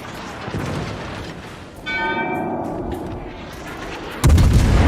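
Battleship main guns fire in World of Warships, a heavy booming report at the end landing loud and close over a steady rumbling game background with a ringing metallic tone earlier.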